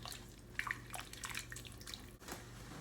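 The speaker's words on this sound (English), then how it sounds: "now I'm going to take my beef broth directly from my skillet and pour it into my crock pot with my beef" Beef broth poured from a skillet into a crock pot of beef for stroganoff, a soft steady liquid pour with a few small splashes and drips, close and moderately quiet, with no talking.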